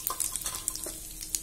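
Hing and turmeric crackling in a generous pool of hot oil for Kolhapuri misal, a quiet, close sizzle with small sharp pops and light stirring scrapes.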